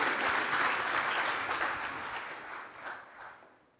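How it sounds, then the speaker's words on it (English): Conference audience applauding a keynote speaker at Cycon 2016, a dense, steady clapping that fills the hall and slowly tapers off toward the end, with no talk over it. "Another round of applause for Martin."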